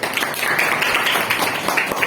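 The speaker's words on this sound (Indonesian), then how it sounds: "Tepuk tangan untuk Adek." A classroom of students claps for a classmate, a steady dense patter of hands sustained for a couple of seconds at moderate loudness.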